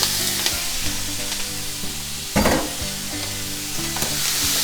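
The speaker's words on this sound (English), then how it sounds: "We want to saute them for about 4 or 5 minutes." Vegetables from a beef back rib marinade sauté in a pan over the meat's fond, a steady close sizzle with stirring and scraping, one louder burst of hiss partway through, no talking.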